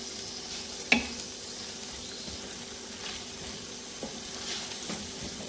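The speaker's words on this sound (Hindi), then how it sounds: "इतना अब हम भूनेंगे कि मसाले का कच्चापन जो है वो अच्छी तरह ख़त्म हो जाए।" Spices (turmeric, dry coriander and roasted cumin) fry in a pan for a tomato okra dish with a soft, steady sizzle, broken by a sharp clink of a utensil early on and occasional light stirring scrapes.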